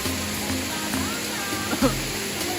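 A waterfall pours steadily by a river during an outdoor cooking trip, a constant broadband rush filling the scene with faint voices and small knocks underneath.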